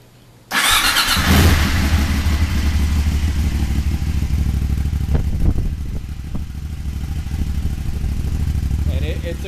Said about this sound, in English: So let's do a cold start for you.